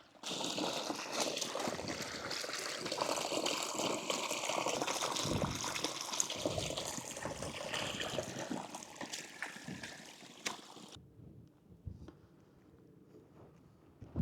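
Water from a stream in the Peak District splashes and trickles steadily for several seconds, close by, then stops abruptly, leaving a quiet outdoor background.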